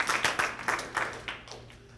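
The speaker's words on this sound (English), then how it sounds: "Give God a hand clap for that." A church congregation claps hands in a quick burst of steady rhythmic claps that fade out after about a second and a half, fairly close and without voices.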